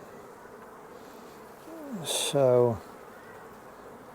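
Honey bees hum faintly around an open hive during an early-season inspection, a low steady drone under a brief spoken word and a short louder burst of handling noise.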